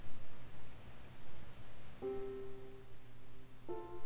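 Steady rain falling in a video game scene, a constant soft hiss of drops continuing throughout with no voices, while a faint musical tone enters partway through.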